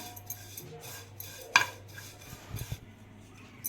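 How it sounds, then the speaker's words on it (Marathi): Sesame seeds roasting in a pan, heard as faint dry stirring and rustling with a sharp metallic clink of utensil on pan and a few soft scrapes. "आता मी तीळ घालून घेते आणि तीळ थोडे भाजून घ्यायचे"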